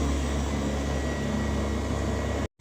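A steady, loud mechanical drone with a broad whooshing hiss runs continuously from a vacuum cleaner on carpet in Istanbul, cutting off abruptly near the end.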